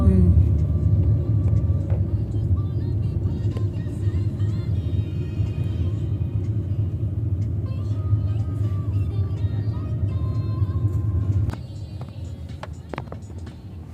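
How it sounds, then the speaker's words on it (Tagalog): Road traffic rumbles steadily along a busy street in Magellan, a continuous low engine drone with passing cars that drops slightly near the end, heard from inside or beside a vehicle. "Traffic din eh."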